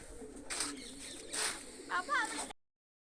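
Pigeons coo in short soft bursts close by while grain is scattered for them, with a voice talking briefly in between.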